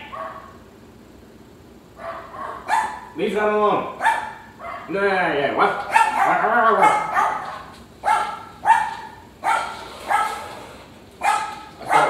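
A dog yips and barks in short bursts outdoors, alternating with a person giving commands and brief whining-like calls, the barking moderately close and intermittent over the talk.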